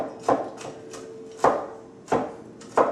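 Nuts are coarsely chopped with a knife on a board for banana bread cupcakes, with about seven sharp, close chopping knocks in an uneven rhythm.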